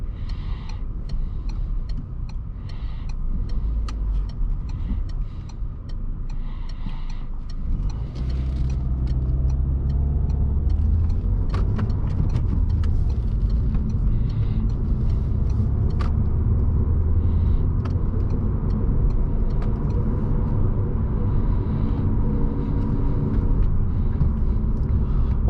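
A Peugeot RCZ cruises steadily at speed on the Autobahn, a low continuous road rumble and engine drone that thickens after a few seconds, with light ticking over it and almost no exhaust sound.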